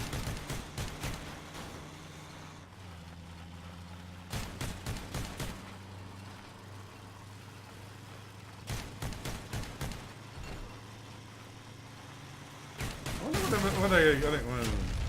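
Bursts of shotgun fire from armored vehicles in the game Crossout, repeated volleys of sharp blasts separated by gaps over a steady engine drone, with louder impacts near the end.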